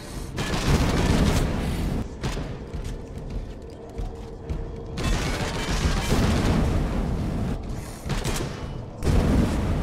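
Heavy gunfire in Space Hulk Deathwing, a Warhammer 40,000 first-person shooter, with dense rattling bursts and booming blasts that pause briefly and resume, loud and close, with no voices over them.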